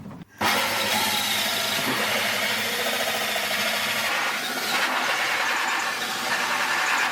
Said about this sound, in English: Can I drill it?